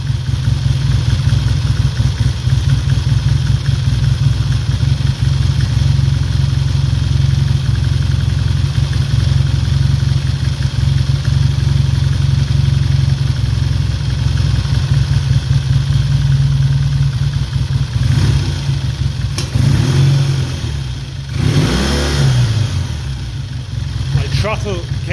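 A 1968 Triumph T100C motorcycle engine idles with a steady, even throb, its tickover gently raised toward the end while a voice talks over it.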